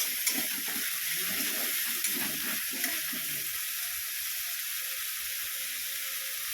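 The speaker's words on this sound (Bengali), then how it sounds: "একটু ভালো করে ভেজে নিই, ঠিক আছে।" Crab curry fries in a pan with a loud, continuous sizzle, broken by a few stirring scrapes early on before settling into a steady hiss.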